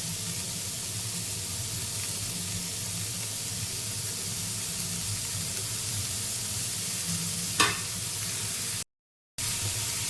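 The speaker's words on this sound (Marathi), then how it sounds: "शिमला मिरची टाकून घेऊया" Chopped capsicum hisses and sizzles steadily in a hot pan, a continuous close frying noise with a brief scrape partway through and a short dropout near the end.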